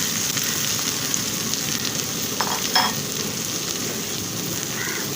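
Six large onions sautéing in fried-onion oil for egg dum biryani, a steady close sizzle and crackle of frying that runs the whole time, with a few faint stirring clinks partway through.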